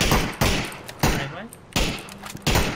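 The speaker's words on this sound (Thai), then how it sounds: "นี่มึงยังยิงแบบไกลอยู่เลย" Gunfire in the video game PUBG during an eight-player squad match, with four loud, sharp shots spaced roughly half a second to a second apart and a faint sliding tone between two of them.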